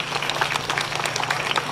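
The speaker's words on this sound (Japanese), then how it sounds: "どうぞ皆様今一度大きな拍手をお寄せくださいませ。" An audience claps after a Yamaga lantern dance performance on an outdoor night stage at the Narita Traditional Performing Arts Festival in 2024, a steady dense patter of applause from many hands over a few seconds.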